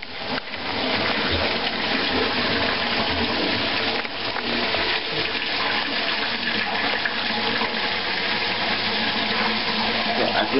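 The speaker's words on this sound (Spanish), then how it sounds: "empezar a cerrar la pompa para que ya no tire más agua" Water gushes loudly and continuously from a pump outlet, a steady rushing roar that holds at full strength throughout.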